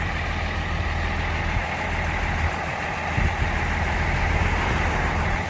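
A truck engine idling after an ether start, a steady low rumbling drone running evenly and close throughout, with no voices over it.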